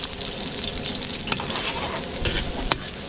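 Garlic and onions frying in a pan during on-the-spot catering cooking at a large event, a dense, steady close-up sizzle with a few sharp crackles and clicks.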